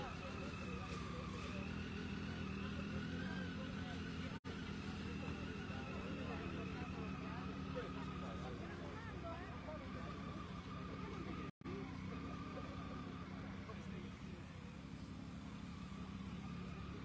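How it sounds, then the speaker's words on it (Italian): Motorcycles rumble as riders set off on a rally start, a continuous faint engine drone and revving with people talking nearby, briefly cut twice by dropouts. "il rombo delle moto e si parte."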